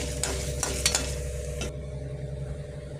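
Mustard seeds and other tempering spices frying in hot oil, with a spoon stirring and scraping the pan a few times over a constant sizzle and a low hum; the stirring stops partway and the frying hiss continues alone.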